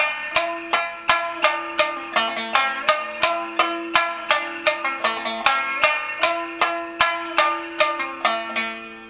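A shamisen plays a warm-up phrase mixing bachizuke plectrum strokes across the 3, 4 and 6 positions, with about twenty crisp plucked notes in a steady rhythm, each snapping then decaying, played solo and close.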